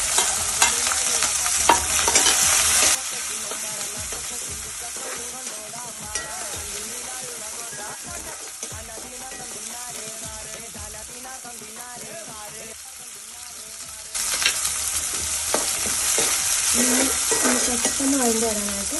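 Shallots, green chilies and curry leaves fry with coconut in a pan for a Kerala pork roast, giving a steady sizzle with repeated stirring scrapes throughout. A faint voice is heard at times under the frying.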